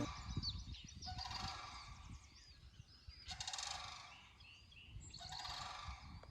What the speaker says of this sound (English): Off in the distance was a pair of sandhill cranes, large and majestic birds with an unmistakable call.